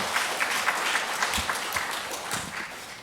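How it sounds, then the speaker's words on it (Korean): Steady applause from a church congregation at a Sunday service, dense clapping that continues evenly throughout without pause. "우리 한번 크게 박수로 한번 좀 맞아주세요"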